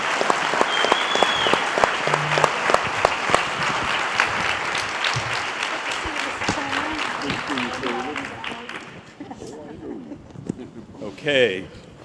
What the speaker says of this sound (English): Please, another round of applause for our panelists.